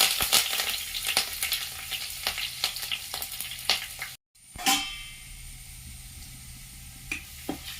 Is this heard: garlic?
yes